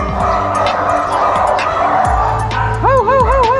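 Several dogs barking and yipping close by in a busy spot, repeated overlapping barks with a passing vehicle hum beneath and a rising-and-falling whine near the end.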